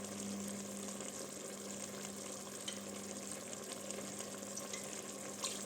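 Pork chunks sizzle steadily in a hot pan after whiskey is poured in for carne de porco à alentejana, a dense, continuous frying hiss with small crackles and pops, with no voices.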